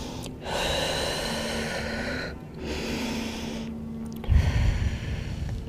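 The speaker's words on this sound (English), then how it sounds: "Complete exhales, maybe Ujjayi breath." Ujjayi breathing during a yoga session: several long, hissing, throaty breaths in close succession, each lasting a second or two, with brief pauses between and a slightly louder, rougher breath near the end.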